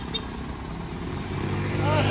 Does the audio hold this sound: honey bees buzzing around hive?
no